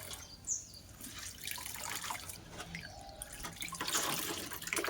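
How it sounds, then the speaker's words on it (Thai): Salted green mango being squeezed by bare hand to press out its sour juice, giving close, wet squelching and a dribble of liquid with a soft running-water hiss throughout, and no voice. "เดี๋ยวเราจะคั้น เอาน้ำเปรี้ยวๆเนี่ย ออกหลายๆน้ำค่ะาคั้นกัน ขออนุญาตใช้มือนะคะ"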